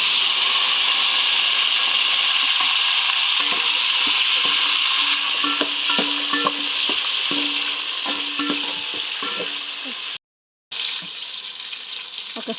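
Tomato and green chilli fry in a pan, giving a steady loud sizzle with scattered stirring scrapes and knocks; the sound cuts out briefly near the end before resuming.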